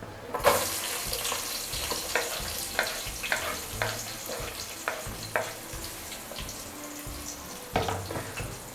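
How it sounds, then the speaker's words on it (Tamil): Onions and tomatoes sauté in a pan for egg biryani, a steady sizzle broken by regular scraping stirs roughly once a second, close and moderately loud, with no voices. "இப்போது வெங்காயம் தக்காளியெல்லாம் போட்டு வதக்கிடலாம்"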